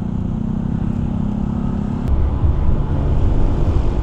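A motorcycle on a leisure road ride heads out from SM Tanza toward the Pico de Loro loop, its steady engine hum and wind rumble continuous, the low drone deepening and growing slightly louder partway through.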